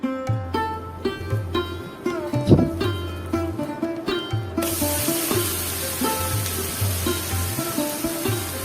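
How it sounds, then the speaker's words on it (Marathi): A ghavan rice crepe cooks on a hot pan: a soft sizzle at first, then a broad, steady hissing fry, all under a looping background melody. "घावन आता दुसऱ्या बाजूनेही तसेच आपण भाजून घेऊ"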